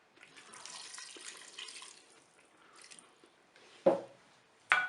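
White wine and water pour faintly into a Cookeo multicooker pot for about two seconds, followed by a few sharp clunks near the end.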